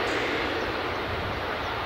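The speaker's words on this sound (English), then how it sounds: "United 757 taxiing folks." A United Boeing 757 taxiing at Edinburgh Airport, a steady, broad jet engine roar holding at a constant level throughout, fairly close and with no talking.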